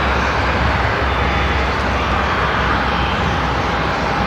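Steady, loud jet roar from an Omni Air charter aircraft at Seattle-Tacoma International Airport, a constant broadband rumble throughout with no talk.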